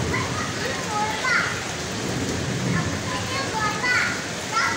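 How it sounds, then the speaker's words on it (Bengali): Heavy rain pouring over a rooftop in Khulna city after intense heat, a dense steady wash of falling water with faint voices in the background. "যতটা গরম ছিল ঠিক ততটাই আল্লাহর রহমতের বৃষ্টি নেমেছে"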